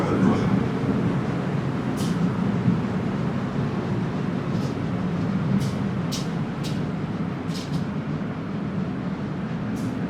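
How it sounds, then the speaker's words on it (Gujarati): A double-decker train at a New York station rumbles steadily and low, with several short, sharp hissing bursts of air releasing at intervals over the continuous drone. "આ જે ટ્રેન હે ને એ ડબલ માળની હે"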